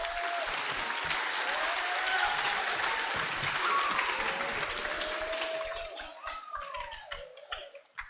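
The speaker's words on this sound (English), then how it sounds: "Hoops a round of applause." An audience gives a full, sustained round of applause at a talk about an amateur radio contact with the space station, steady dense clapping that thins out near the end.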